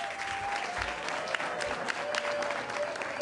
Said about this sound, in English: let's give Chef Daigle a big round of applause